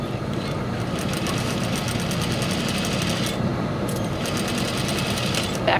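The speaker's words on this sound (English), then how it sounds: "Back stitch at the base of the dart." A sewing machine stitches steadily, backstitching at the base of a dart, its rapid needle rhythm continuous and close with brief changes in pace.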